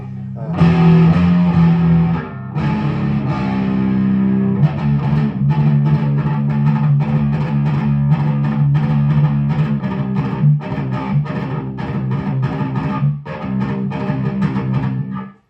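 A heavily distorted electric guitar plays a sustained lead through an amp's cranked lead channel, with thick, saturated tone, loud and continuous with short breaks between phrases.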